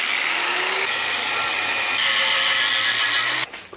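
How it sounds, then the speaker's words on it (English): An angle grinder cuts a metal rod to a two-foot length for foundry tongs: a loud, continuous high-pitched grinding whine that holds steady, then cuts off abruptly near the end. "Grinder time."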